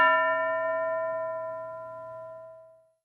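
A school bell gives a single clear, ringing tone that hangs in the air and fades slowly over about three seconds, with no voices around it.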